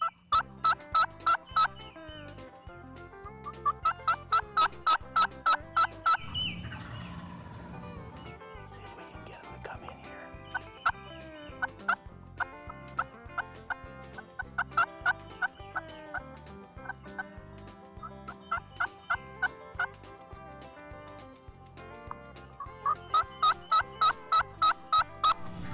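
A wild turkey gobbler in Pennsylvania woods gobbles again and again in loud rattling bursts, with softer clucks and calls between, spread across a long stretch as he walks with a hen near a hunting blind.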